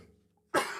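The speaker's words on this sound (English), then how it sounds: "sorry about the coughing" One sharp, loud cough from a man bursts in after a near-silent pause and fades out at the end.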